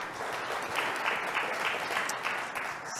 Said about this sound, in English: Let's give a big round of applause to our lighthouse teams